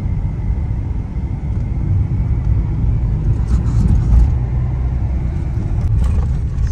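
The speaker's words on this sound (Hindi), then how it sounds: "गाड़ी कैसे चल रही है गियर ही नहीं लगा है खाली ब्रेक है ना" A car drives along a road in Kathmandu with a loud, continuous engine rumble and road noise, and people talk inside over it.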